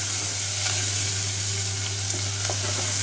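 Onion and ground paste sizzling in a hot pan for tomato sambar, a dense continuous frying hiss with faint stirring clicks, steady and close, with no talk.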